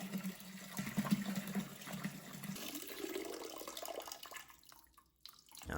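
Liquid is poured and transferred into a barrel, a faint, steady splashing and trickling flow with rising filling tone that tapers off near the end, with no talking.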